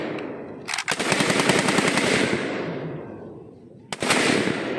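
An INSAS rifle fires a loud automatic burst outdoors, followed by a rolling echo, then a second burst starts after a short pause.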